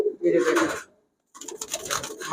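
Pakistani high-flyer Giribaz pigeons at a pigeon shop coo close by in two throaty bursts separated by a brief silence.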